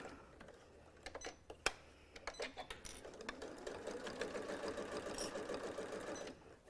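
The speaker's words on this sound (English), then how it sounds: "I'm just gonna bring my right sides together and sew that 1/4 inch seam right down that edge." A sewing machine stitches a quarter-inch seam along the edge of fabric for a reversible sun hat, starting with scattered clicks and knocks, then settling into a steady fast whirring hum before stopping.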